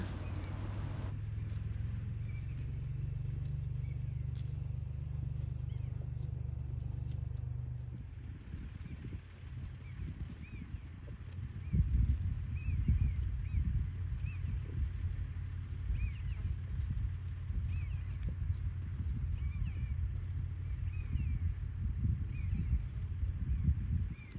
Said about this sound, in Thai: เสียงเครื่องยนต์ของชาวนาค่ะ ชาวนากำลังเข้ามา